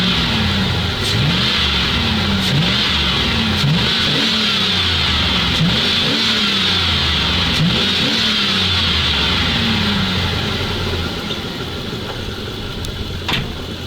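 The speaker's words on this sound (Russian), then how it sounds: "давление держится, мотор крутится" A ZIL truck engine runs with a rough, pulsing idle, revving up and down in repeated swells, loud and close throughout with no talk over it.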